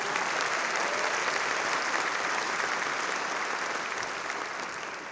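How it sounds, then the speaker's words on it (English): A large audience at a community event claps steadily after a performance, a dense, even roar of applause that holds for several seconds and then slowly tapers. "Let's give her another round of applause."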